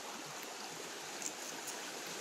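A river flows in a steady, even rush of water, soft and constant with no voices.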